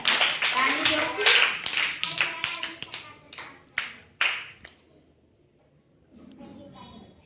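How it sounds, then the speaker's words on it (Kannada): Children clapping in a classroom during a rhyming-words lesson: several quick rounds of close claps, some loud, some lighter, with a teacher's voice talking over and between them. "ವೆರಿ ಗುಡ್ ಚಪ್ಪಾಳೆ"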